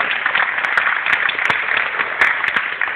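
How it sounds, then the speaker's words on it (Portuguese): Steady, dense applause from a crowd, a continuous wash of many hands clapping at even volume throughout. "vamos bater palmas"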